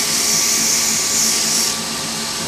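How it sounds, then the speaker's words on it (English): Pen blank barrel being sanded with 240-grit sandpaper, most likely spinning on a lathe, giving a loud, continuous, hissing motor whine that eases off slightly toward the end. "And I just stop it and I just sand along the length of the barrel again"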